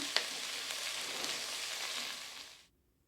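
Onions and masala sautéing in a pan for chicken biryani: a dense, steady frying sizzle with a brief clink at the start, cutting off abruptly near the end.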